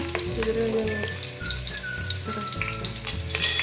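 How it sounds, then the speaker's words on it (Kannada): Onions sizzle in a pan while fish curry is being made, a continuous close frying hiss with occasional stirring knocks and a brief louder burst near the end, and no voices. "ಈರುಳ್ಳಿ ಹಾಕ್ತಾ ಇದೀನಿ. ಫ್ರೈ ಮಾಡಬೇಕು ಇವಾಗ."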